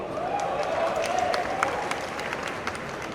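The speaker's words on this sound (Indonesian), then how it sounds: "Tepuk tangan dulu sekali lagi." Applause rises from the crowd at a stand-up comedy set performed before the national police chief, a steady, fairly soft rain of clapping with a faint sustained tone and light voices mixed in.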